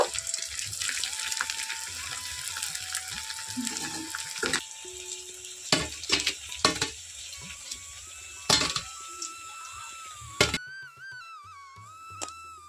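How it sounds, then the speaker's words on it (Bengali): Onion pakoras deep-frying in hot oil, a gushing, bubbling hiss with irregular louder bursts, mixed with soft background music tones. "তো এইভাবে আমি সবগুলোই কিন্তু ভেজে নেব"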